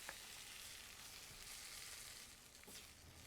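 Onions and beans fry in hot bacon grease, giving a faint, steady crackling sizzle with a couple of soft stirring clicks and no voices.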